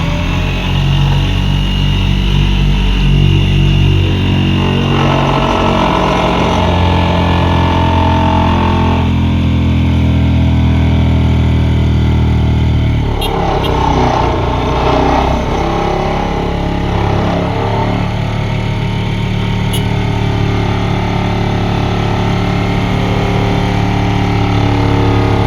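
A vibro hammer drives a giant pipe into the ground, its heavy engine droning steadily and loudly throughout, with bursts of clattering vibration partway through and no voices.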